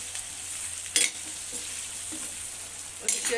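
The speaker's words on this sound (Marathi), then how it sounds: "आता आपण हे सगळं व्यवस्थित मिक्स करून घेऊया" Potato curry with fresh coriander being stirred in a pan, a soft steady sizzle with two louder scraping, clinking bursts from the spoon, close up and without speech.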